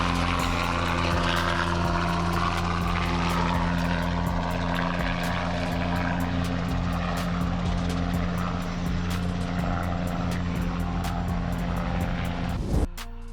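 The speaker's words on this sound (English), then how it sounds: "Safari Kit Helicopter." A Safari Kit ultralight helicopter drones loudly and steadily in flight, its engine and rotor blades producing a continuous buzzing roar with a regular beating pulse that ends abruptly.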